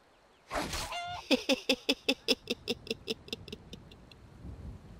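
A chicken in Skyrim lets out an alarmed squawk and then a run of about a dozen rhythmic clucks that gradually fade, close and clear with no talking.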